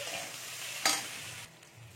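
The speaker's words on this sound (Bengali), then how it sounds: "এবার এটাকে আমি একটু ভালো করে ভেজে নিচ্ছি" Ginger frying and being stirred in a pan, a steady sizzle with a sharp scrape of the spatula partway through, then the sizzle quietens.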